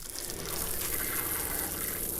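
Cold water running from the outside shower of a Roadtrek 190V camper van, a loud, continuous gushing spray from start to finish with no voices.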